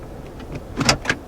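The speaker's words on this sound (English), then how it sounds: "that little whining noise is the sound of the automatic parking brake activating" A 2019 Toyota Corolla Hatchback's automatic parking brake sets with a short, soft electric whine, two brief rising pulses after quiet cabin hum, heard close with no talking.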